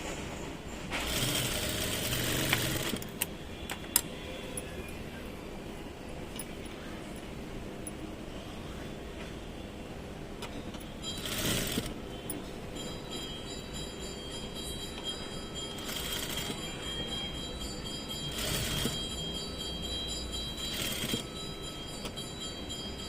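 A sewing machine stitches the side seam of a blouse, eased through without pulling, as a long, steady mechanical rattle with several louder surges along the run.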